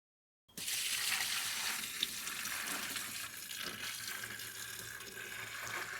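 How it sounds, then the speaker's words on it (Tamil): Tulsi (holy basil) juice being filtered in a kitchen, making a continuous splashing, trickling pour that starts abruptly and keeps running steadily. "அது வந்து ஃபுல்லாக ஜூஸாக ஃபில்டர் பண்ணுறோம்."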